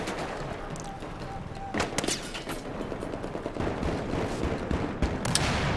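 Rapid gunfire bursts and scattered shots from the shooter game Battlefield 4 crackle through a dense, noisy battlefield mix, with repeated sharp reports near and far over several seconds.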